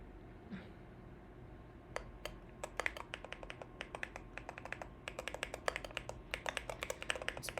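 Typing on a Keychron Q4 mechanical keyboard, a steady run of crisp, close keystroke clicks in irregular bursts, alone over a quiet low room hum.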